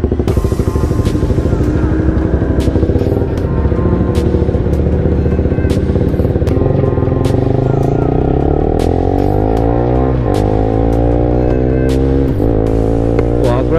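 An Italjet Buccaneer 250i V-twin scooter is ridden at close range, its engine revving up and down through gear changes with rising and falling pitch, accompanied by rattling clatter and sharp clicks.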